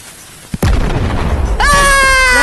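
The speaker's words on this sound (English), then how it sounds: "Explosion!" A sudden explosion bursts in the video game Animal Company after a sharp pop, followed by a loud rumbling roar and a rising whistling tone, close and very loud.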